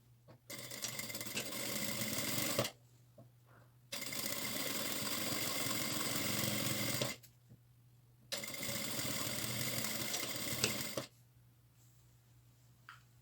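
Sewing machine stitching a seam on a fabric placemat, three sustained bursts of rapid motor-driven needle whirring separated by short quiet pauses, close and steady.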